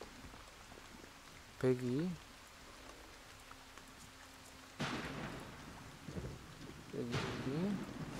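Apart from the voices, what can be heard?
rain effect in the video game Wartales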